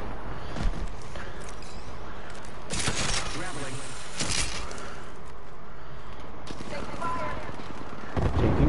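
Gunfire in the Apex Legends video game comes as bursts of shots and loud blasts over a busy game soundscape, with voices around them.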